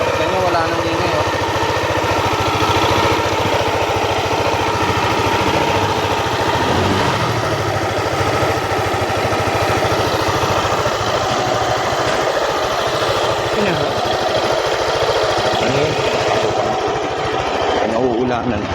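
A Yamaha Aerox scooter engine, freshly overhauled, idles steadily up close with an even, buzzing low hum throughout, and a voice talks over it.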